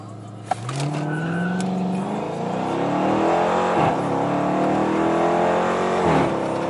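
A stock 2015 Dodge Charger R/T on 26-inch Forgiato wheels launches hard from a standstill on a flat road, its engine note rising loud and close through repeated gear climbs with brief shift dips.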